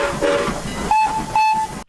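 Strasburg Rail Road locomotives, including a steam engine, sound a whistle in the shave-and-a-haircut rhythm: short clear toots followed by two longer sustained blasts, loud and close over rumbling rail noise.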